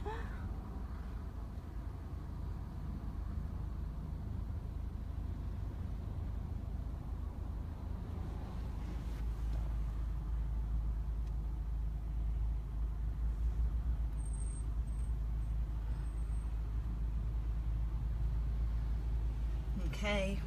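Car interior while driving through Jerusalem, heard from the passenger seat: a steady low engine and road rumble that continues throughout, with a faint background voice.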